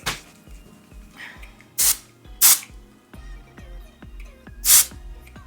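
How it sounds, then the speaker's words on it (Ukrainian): An aerosol spray can with its nozzle partly pressed releases three short, close hissing bursts of fine droplets, separated by pauses, over a steady thumping beat. "я купила цей балончик, і я трошки йому прижала носика, бачите, щоб він розпилював"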